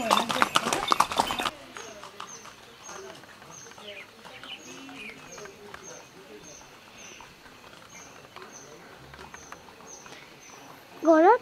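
Horse hooves clip-clop in a steady, even rhythm while the horse is ridden outdoors, moderately close, with people chatting over them and a loud burst of noise at the start.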